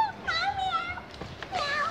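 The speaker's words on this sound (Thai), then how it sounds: "ฉันมีแมวมาด้วย" A cat gives a few drawn-out, wavering meows, close and clear against a quiet room.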